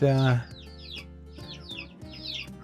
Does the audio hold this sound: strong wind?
no